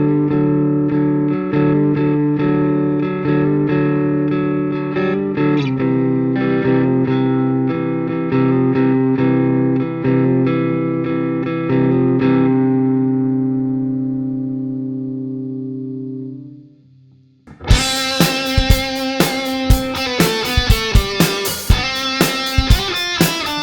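An electric guitar played through a BOSS RV-6 reverb pedal rings out in clean, sustained chords with long reverb tails that fade to silence, then switches to a loud, distorted tone with sharp, repeated strummed hits.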